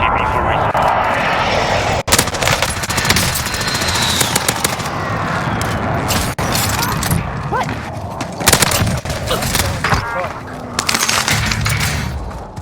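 Video game airstrike and combat: a dense wall of gunfire bursts, aircraft engine roar and explosive rumble, loud and continuous throughout with sharp cracks, and a voice talking over it.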